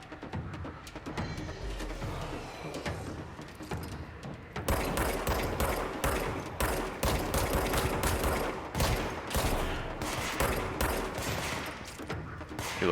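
Gunfire in the video game Control, bursts of rapid shots building into a sustained, loud fusillade with booming low impacts, dense and continuous through the second half.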